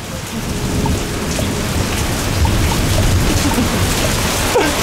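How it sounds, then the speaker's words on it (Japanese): Heavy rainstorm pounding down in a steady, dense roar close by, with low rumbles of thunder rolling underneath and no talking. "音でわかる？ 大嵐です。"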